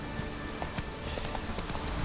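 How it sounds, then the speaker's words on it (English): Brief, steady clip-clop of a horse's hooves trotting in The Witcher 3, close and moderately loud against background game ambience. "Whoa there, Roach."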